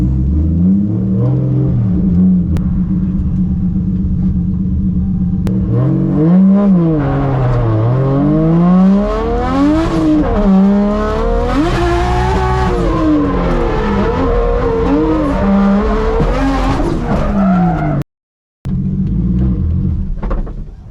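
A competition race car on new tires, just out of the burnout box, roars continuously up close, its engine revving and rising in pitch with a brief cut near the end.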